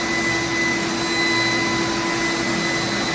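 A Titan Cap Spray 115 HVLP sprayer spraying white paint gives a steady, loud, close-up whooshing drone with a constant tone throughout and no talking.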